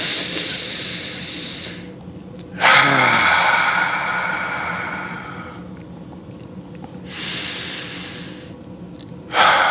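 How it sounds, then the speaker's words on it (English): Slow, deep breaths drawn in and let out one after another during a guided calming exercise, each a soft airy hiss separated by quiet pauses, close and alone with no talk. "Let's take 3 deep breaths together."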